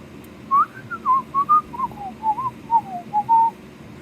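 A person whistles a short, wandering tune of clear, bright notes, rising and falling in a steady rhythm, close and alone.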